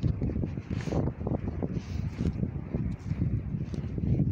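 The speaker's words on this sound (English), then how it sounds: "Fairly windy," Steady gusty wind buffets the microphone outdoors in a snake-hunting area, a continuous low rumbling roar with rustling bursts and no speech.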